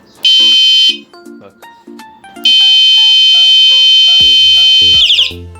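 A loud electronic bicycle horn blares in piercing siren-like bursts as the button is held, first briefly and then in a long sustained wail, with a short spoken word partway through.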